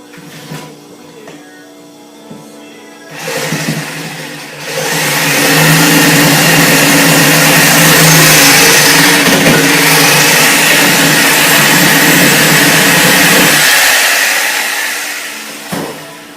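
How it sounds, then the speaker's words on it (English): A Sawzall reciprocating saw cuts through a kayak fishing rod holder, rising into a loud, steady buzzing drone for about ten seconds before cutting off, with quieter handling noise before it starts. "Bust out the old Sawzall."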